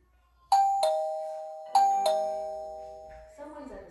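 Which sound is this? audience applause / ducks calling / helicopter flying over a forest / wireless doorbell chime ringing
wireless doorbell chime ringing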